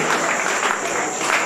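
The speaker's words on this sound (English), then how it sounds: "Let's keep clapping for them." An audience at the DPI DIGITEST 2018 closing ceremony applauds the champions with a steady, dense wash of clapping, loud and continuous, with no individual claps standing out.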